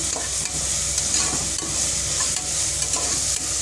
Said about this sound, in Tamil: அதுக்குள்ளே இங்கே மசாலா வெங்காயம் தக்காளி நல்லா வதங்கிடுச்சு